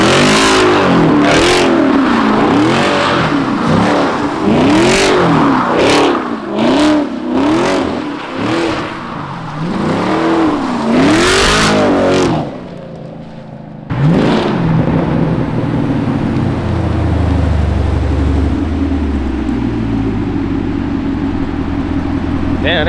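Car with a ZM1 motor revs hard in repeated rising and falling bursts up close, then settles into a lower rumble and pulls away, with people talking over the engine.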